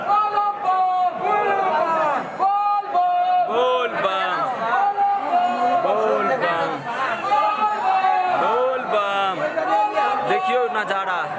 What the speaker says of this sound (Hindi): देखियो नज़ारा, श्रद्धालु भक्त लोकन सबके भीड़ देखियो